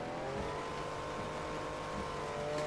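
A car in the racing video game Project Cars drives in reverse, its engine a steady, continuous drone with a faint tire squeal near the end.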